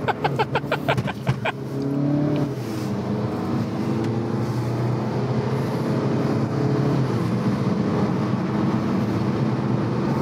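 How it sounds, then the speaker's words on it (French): A diesel Seat Leon FR with a 184 hp engine makes a launch control start, its wheels spinning. A short burst of revving and engine pulses comes first, then a steady strained engine drone as the car pulls away. No speech. "on va tester Launch Control sur l'entrée de VE avec le 184 en diesel"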